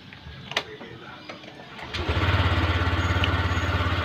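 A Honda motorcycle engine starts after a few clicks and knocks, then settles into a loud, close, steady idle with a rapid pulsing throb.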